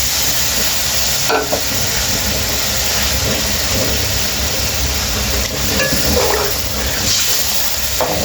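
Ingredients for spicy chicken spaghetti mixed in a hot pan, a loud continuous sizzle with scraping stirs and a few sharper utensil knocks, close and without speech.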